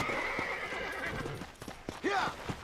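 A horse in the video game Red Dead Redemption whinnies loudly near the end, preceded by clip-clopping hooves and a steady background tone.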